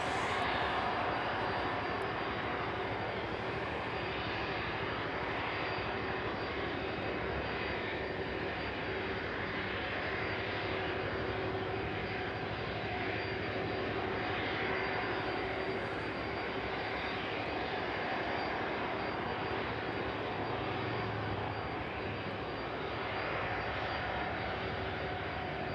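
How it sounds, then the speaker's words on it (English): An Ilyushin Il-76 four-engine jet at East Midlands Airport runs its engines, a loud, steady, continuous roar and whine that holds throughout without talk. "Looks like all 4 of those engines are now online."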